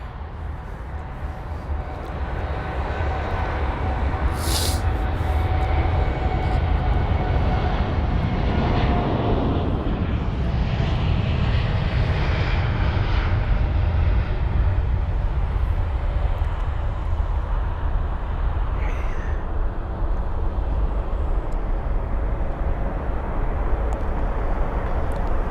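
Saudi airliner taking off and climbing at London Heathrow, its jet engine roar swelling from a distance into a strong, close rumble with whining tones, then holding steady as it climbs away.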